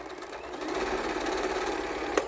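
A sewing machine set to its float feature stitches a quilt-as-you-go table runner with a steady, rapid mechanical whir and needle chatter. A single sharp click sounds near the end.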